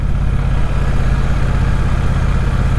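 A Triumph Speedmaster parallel-twin motorcycle engine rumbles steadily at low revs, a deep even throb heard up close and loud, with no voices.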